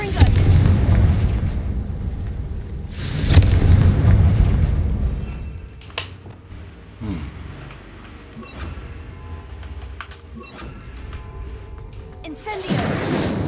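Heavy booming blasts from the Confringo fire spell in the Hogwarts Legacy game, two strong deep explosions early followed by smaller impacts and crackles, with brief talk and music underneath.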